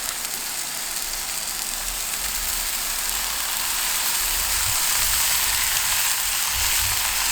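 Bacon sizzling and frying steadily on a kamado grill at a barbecue breakfast fry-up, a continuous close, even crackle with faint low thumps, no talk.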